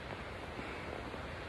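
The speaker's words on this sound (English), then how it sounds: "Waterfall." Broad steady rush of Taughannock Falls, a waterfall in New York seen from below the cliffs, a soft distant roar with no break over a brief moment.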